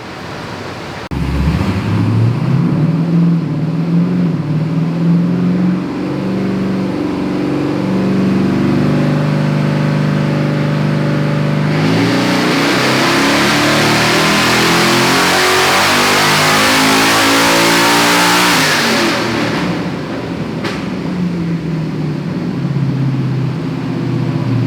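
Twin-turbo LS V8 swapped into a Ford Fairmont, running on Holley EFI: the engine fires up and idles loud and close, then revs up hard with a rising roar and hiss before settling back, with no talk.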